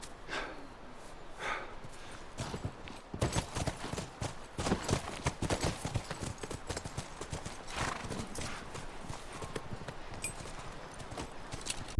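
Horses' hooves clip-clop in an uneven, steady walking rhythm, fairly close, with an occasional snort or whinny between the steps.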